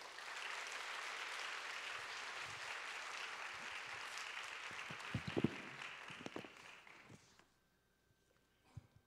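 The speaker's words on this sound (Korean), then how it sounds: "우리 선교사님 나오실 때 큰 박수로 모시겠습니다" Church congregation at a youth department overseas short-term mission sending service applauding to welcome a missionary, a broad steady wash of clapping that fades out after several seconds, with a few louder thumps near the end.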